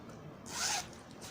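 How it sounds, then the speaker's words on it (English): Zipper on a pink oil leather tote bag pulled in one quick, close zip lasting under half a second, a brief bright rasp against a quiet room. "the inside does have the zippers, middle zipper,"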